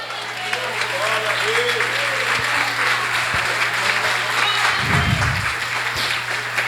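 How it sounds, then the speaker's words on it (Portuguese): A church congregation claps during a Portuguese-language service, a broad steady patter of many hands under faint background voices and a low hum, with a brief low thump near the end. "aplauda o Senhor Jesus"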